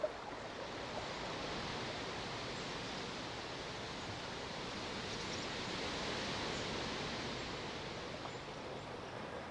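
Flowing water rushes in a steady, even hiss that holds at a constant moderate level throughout, with no voices.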